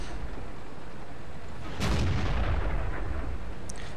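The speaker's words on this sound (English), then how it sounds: "the artillery stole that one away" Artillery fire in the tank battle game World of Tanks: a single heavy distant boom lands midway through, rumbling and fading over a constant low background of battle ambience.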